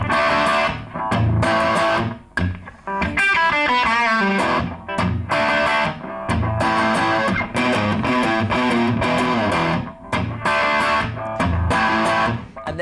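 Distorted electric guitar plays the main riff of a song, punchy chord stabs broken by sharp pauses and quick single-note runs, loud and close with no voices over it.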